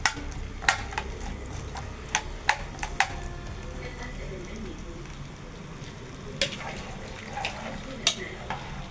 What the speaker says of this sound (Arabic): ده عمل قلية البطاطس. نبدأ نحطها في الزيت.